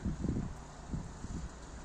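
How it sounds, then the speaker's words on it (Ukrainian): Gusty winter wind in Canada buffets the microphone in low, uneven rumbling bursts, with snow falling in frost near -30, and no voices present. "А зараз піднявся вітер"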